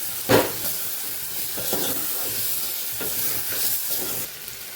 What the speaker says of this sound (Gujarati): બટેકાને સાતળી લેશું।